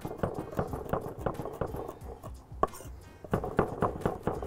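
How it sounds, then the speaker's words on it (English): A knife roughly chopping rosemary on a board, a quick uneven series of close, crisp taps with a short pause midway before the chopping resumes. "Just gonna roughly chop the rosemary, right?"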